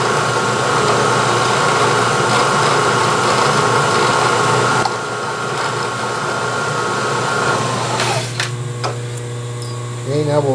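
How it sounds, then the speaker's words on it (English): Number 33 drill boring a pilot hole through metal toward a 7/16 hole, a steady close machine whir and grinding hum that eases off near the end as a few clanks and faint squeals follow. "We'll drill all the way through to the 7/16 hole."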